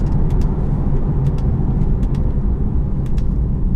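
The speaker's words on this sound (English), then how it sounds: "that ZF 8-speed gearbox does a wicked job of just clapping through those" A 2016 BMW 440i Cabriolet with a ZF 8-speed automatic gearbox drives along, its engine and road noise a steady, loud rumble throughout, with brief crisp transients that may mark quick gear changes.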